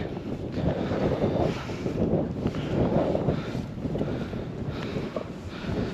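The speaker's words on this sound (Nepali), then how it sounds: "हावा पनि चलिरहेको छ न त" Steady wind roars and buffets across the microphone outdoors on a road trip toward Norway, a continuous loud rumble with gusty surges throughout and no voices.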